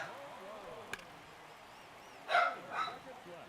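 A pet dog named Porfy gives a quick double bark indoors in a home studio, one short burst late in an otherwise quiet stretch with faint background sound.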